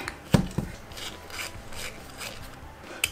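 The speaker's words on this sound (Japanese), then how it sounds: "ネジ止め。" Parts of a Hachette Great Mazinger partwork model are screwed together while the Mazinger Z hand is being assembled. A couple of sharp clicks are followed by a soft, rasping, ratchet-like scrape of a screw being driven in, close and alone.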